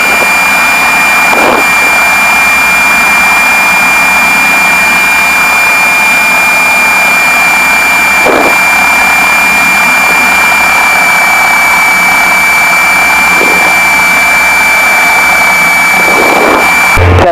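Twin engines of a Piper Seneca roar steadily at takeoff power, a loud continuous drone with a high whine running throughout, no voices.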